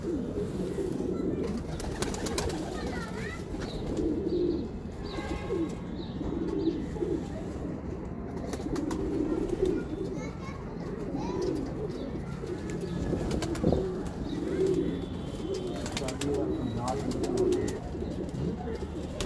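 Breeder pigeons in a loft cooing steadily and repeatedly, many low throaty calls overlapping nearby, with occasional faint voices in the background.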